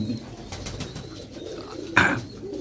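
Soft, low pigeon cooing continues throughout, with a brief louder flutter or rustle near the end.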